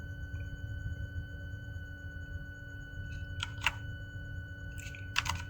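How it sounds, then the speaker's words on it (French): Keys on a computer keyboard, Control and Enter, pressed while working in Photoshop, producing a few faint, sharp clicks in two small clusters over a quiet room hum. "On appuie sur Contrôle Entrée."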